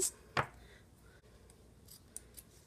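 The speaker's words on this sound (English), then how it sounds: "Okay, so I've cut a small piece of felt." Scissors make one crisp snip through a small piece of felt, a short sharp cut close by followed by a few faint handling taps in a quiet room.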